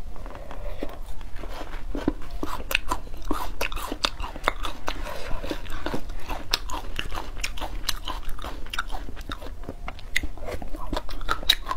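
Crunchy braised pork skin from a jar is bitten and chewed up close, with rapid, sharp crackling crunches repeating steadily and loudly throughout.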